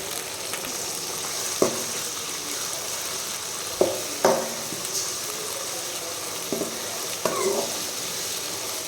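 Onions fry with ginger garlic paste for mutton chukka, giving a steady close sizzle throughout. Several sharp clinks of a spoon scraping the pan break through the sizzle as the mixture is stirred.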